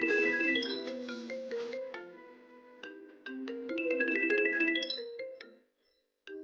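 A mobile phone plays a melodic ringtone, a bright repeating tune that rings steadily, fairly quiet and alone, then cuts off briefly before resuming.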